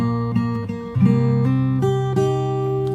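Fingerstyle acoustic guitar plays a short phrase, several plucked notes and bass tones ringing out clearly and unaccompanied, with a few percussive attacks.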